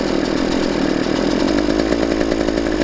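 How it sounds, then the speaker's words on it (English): A two-stroke dirt bike engine revs close by, a loud continuous buzzing drone with a fast rhythmic pulse that rises slightly in intensity. "I'm gonna rev it up."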